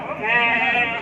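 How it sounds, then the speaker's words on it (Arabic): A sheep gives one loud, sustained, wavering bleat close by at a Moroccan livestock market after Eid, with market noise faint underneath. "كلهم خروفات ديال الرشم تبارك الله"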